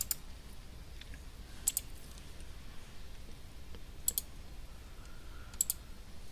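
Computer mouse clicks during server configuration work, three sharp, faint double clicks spaced a couple of seconds apart against a quiet room hum, with no talking.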